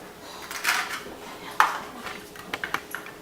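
Small baking dishes are handled in a kitchen while lobster macaroni and cheese is portioned into them, giving a few sharp ceramic clinks and knocks spread over a few seconds, close by, with faint voices underneath.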